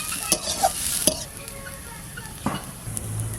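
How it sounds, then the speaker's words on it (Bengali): Young boal fish fry wrapped in leaves in a pan, a soft sizzle running under sharp clinks and scrapes as they are stirred, close and fairly quiet. "এই দেখুন প্রায় ভাজা হয়ে গেছে আর একটু ভাজবো"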